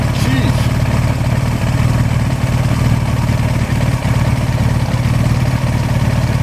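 A 38-year-old Suzuki GS1100E motorcycle runs with a steady, low engine drone, loud and close throughout, with no clear revving.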